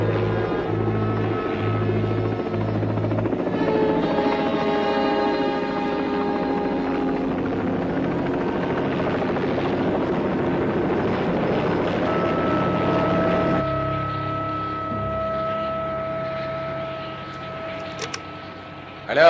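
Helicopter in flight heard as a steady, loud mechanical drone with sustained tonal hum that holds throughout, shifting pitch partway, with no talk over it.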